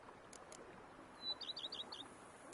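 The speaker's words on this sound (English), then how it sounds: "Bees buzzing, birds chirping." Birds chirp in quick, faint bright tweets over a soft outdoor ambience in The Witcher 3: Blood and Wine video game, a brief cluster of calls with no talking.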